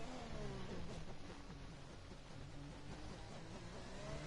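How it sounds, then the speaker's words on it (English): Racing car engines in low gear in a racing video game drone with a steady, strained tone. The sound is faint and continuous, with no voices. "The engines don't sound nice when they're in low gear."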